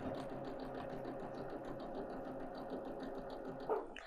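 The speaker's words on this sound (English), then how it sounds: "Line up the edges as best you can and go ahead and stitch." Sewing machine stitching pieced quilt block fabric, a steady fast mechanical whirring hum held for about four seconds, close and moderately quiet, ending with a small bump.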